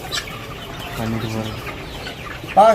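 Colour bird broiler chickens cluck in a few short, close bursts while being weighed, with a louder squawk near the end over faint background noise.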